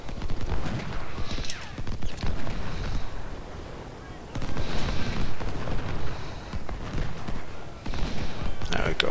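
Concentrated gunfire from a Civil War-era video game battle at Kettle Run, with loud, sustained volleys and overlapping musket shots rolling in dense waves that swell repeatedly.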